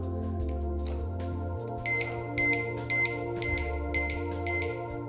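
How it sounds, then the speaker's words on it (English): A series of six high electronic beeps from an Abus Trigger motorcycle disc lock alarm arming sounds at an even pace over a low, steady hum, fairly faint and nearby. "six beeps will let you know that it's armed"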